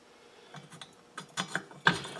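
A small engine's flywheel nut is tightened with quick, light ratcheting clicks, close and fairly faint, in a short uneven sequence that grows slightly louder at the end.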